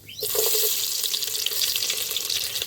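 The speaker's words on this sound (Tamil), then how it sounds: "சட்டி நல்லா சூடாயிட்டு எண்ணெய் ஊற்றிக்கிடுது. கடுகு, சின்ன வெங்காயம்," Mustard seeds and small shallots frying in hot oil in a pan for village-style tomato rice, giving a steady loud sizzle with fine crackling throughout, no talking.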